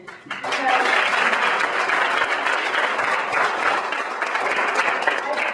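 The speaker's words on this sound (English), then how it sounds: "I just want to give you a big hand of applause, and maybe you'd like to join in with me." Audience applause at a networking event with a spirituality and energy theme, a dense wash of many hands clapping that swells in quickly and holds steady and fairly loud for several seconds.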